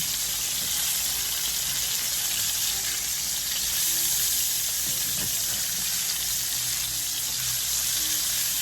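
Salmon fillets sizzle steadily in a hot pan, a continuous close frying hiss that runs throughout with no talking.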